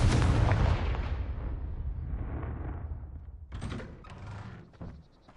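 A Confringo blasting spell goes off in the Hogwarts Legacy video game: a loud, booming burst that rumbles and slowly fades, followed by a few sharper thuds and crackles.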